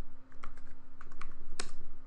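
Keystrokes on a computer keyboard typing a command in a terminal to run a script on a BeagleBone board, a quick run of close, crisp clicks with a sharper cluster near the end, heard alone.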